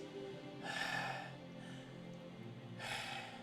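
Two heavy, close breaths rush into a microphone, a loud exhale or gasp followed by a second one about two seconds later, with faint low background hum between.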